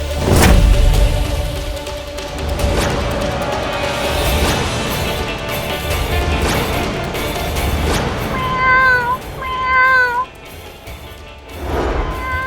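A cat that has come in through an open window meows twice, its high, drawn-out cries rising out of a busy, noisy background.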